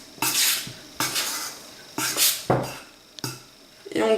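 Flour and salt being mixed in a large salad bowl for crêpe batter, with repeated bursts of scraping and knocking every second or so, close and fairly loud.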